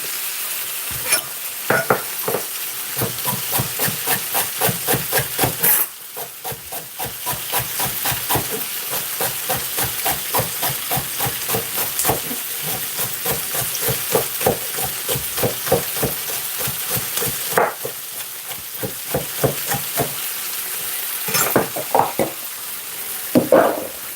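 Celery and garlic frying in a soup pot while being stirred, a steady dense sizzle with rapid scraping stir strokes throughout, loud and close, no talking.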